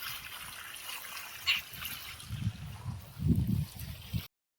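Water flowing from a pump motor in a village, heard as a soft steady trickle with louder gurgling splashes toward the end before it cuts off abruptly.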